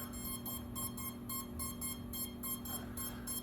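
An iFlight Alpha85 HD FPV tiny whoop drone beeps in a regular repeating pattern of short tones after power-up while waiting to bind, faint and close over a low steady hum.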